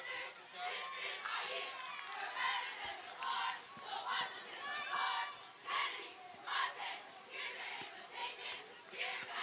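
A large high school cheer squad performs for the home crowd at a football game between JFK and Perth Amboy, chanting in unison in rhythmic shouted bursts over crowd noise, somewhat distant.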